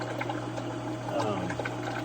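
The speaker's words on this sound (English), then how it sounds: "I'll pour this bucket in" Water poured from a bucket into a feed mix, a steady splashing and gurgling pour heard close, with someone talking over it.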